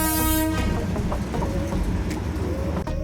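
A Darjeeling toy train on Hill Cart Road sounds a loud horn toot at the start, then its wagons rumble and clatter steadily close by.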